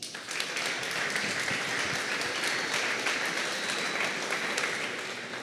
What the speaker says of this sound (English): so give Ben a round of applause